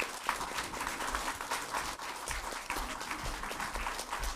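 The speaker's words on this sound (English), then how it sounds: "please show our appreciation by clapping and cheering for them" Audience applause with scattered cheers fills a staff introduction at a long life ceremony, steady dense clapping throughout at moderate distance.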